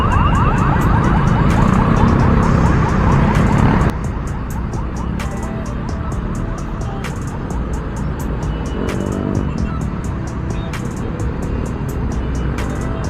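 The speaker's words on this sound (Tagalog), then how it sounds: "Traffic talaga dito." Busy road traffic with cars moving past, a loud, dense engine wash that drops to a steadier rumble after a few seconds, with regular ticking clicks over the top.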